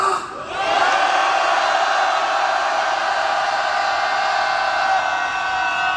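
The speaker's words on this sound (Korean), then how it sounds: "함성 한번 외치겠습니다" A crowd at an outdoor union protest rally raises a long, sustained shout together, starting abruptly after a brief lull and holding loud and steady to the end.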